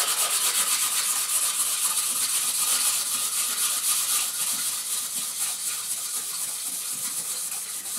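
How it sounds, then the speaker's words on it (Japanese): Fine 1200-grit sandpaper rubs across a Trangia aluminium mess tin, a soft continuous hissing scrape in quick back-and-forth strokes that fades gradually toward the end, close and alone. "1200番とかで磨いていると、すぐに音が小さくなって、撫でているだけのような音になってきます"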